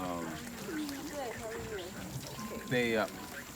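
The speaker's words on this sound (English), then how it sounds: "It takes about 3 minutes to fill up one of these half gallons." Spring water pouring into a half-gallon jug, a soft continuous trickle under a person talking throughout.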